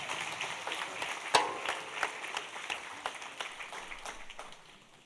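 An audience at an Easter church service applauds after a personal testimony: a moderate patter of clapping with one sharp clap near the start, gradually thinning and fading toward the end.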